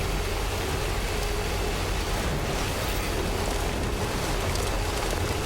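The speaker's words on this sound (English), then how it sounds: "This rain is hammering this truck." Heavy rain hammers a truck in the Death Stranding video game: a dense, unbroken hiss of rainfall, loud and constant throughout, with no voices.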